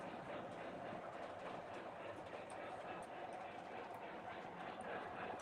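A triplex steam locomotive model train runs with a faint, continuous rolling clatter of wheels on track, low in level, as people chat nearby.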